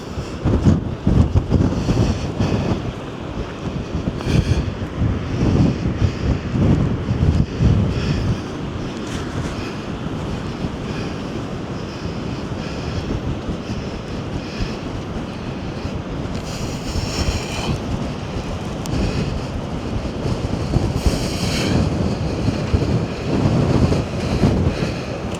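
Strong Storm Darragh wind roars over Mablethorpe beach with crashing sea waves, a loud, continuous gusting rumble as sand blows over the dunes.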